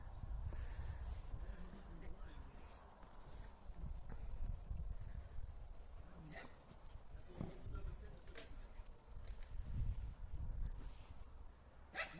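A mare's hooves clip-clop in an uneven, irregular pattern over a steady low rumble of background noise, with voices in the scene.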